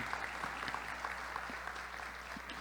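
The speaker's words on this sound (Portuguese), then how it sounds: "Aplauda ao Senhor Jesus pela vida desses amados." Church congregation at an Easter family service applauding steadily, a soft, even wash of many hands clapping with faint background murmur.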